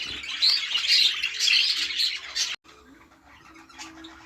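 Budgies chirp in a breeding room, a dense, busy chatter of many birds twittering close by, loud at first and then dropping to sparser, quieter calls.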